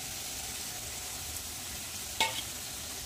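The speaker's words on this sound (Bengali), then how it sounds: "ভালো করে মশলা দিয়ে কষিয়ে নেব।" Soybean chunks and potatoes fry in a pan with spice paste, giving a steady broadband sizzle throughout with one brief louder scrape of stirring near the end; no voices.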